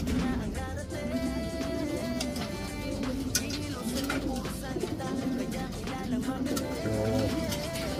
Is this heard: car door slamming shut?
no